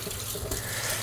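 Running tap water pouring over boiled specklebelly goose breasts as they are rinsed, a close, steady splashing gush that goes on throughout without any talk.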